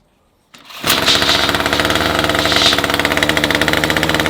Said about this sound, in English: it's idling fine